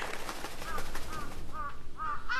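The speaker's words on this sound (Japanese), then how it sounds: "カラスだ。" A crow caws several times in the horror video game Hollow Cocoon. The harsh calls repeat toward the end over a noisy outdoor game ambience.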